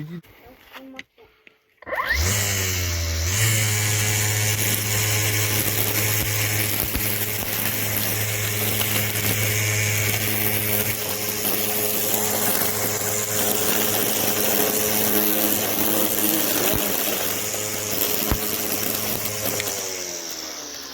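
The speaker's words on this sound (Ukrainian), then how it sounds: "закріпили косу і починаємо косити" An Einhell AGILLO 36/255 BL cordless brush cutter starts after a short quiet pause and then runs at a steady, loud, even whine while cutting grass outdoors, continuing close by to the end.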